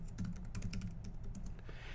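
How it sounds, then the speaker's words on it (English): Rapid keystrokes clatter on a computer keyboard, a quick irregular run of close clicks over about two seconds. "Whenever Connor starts typing, he has to quit doing other things."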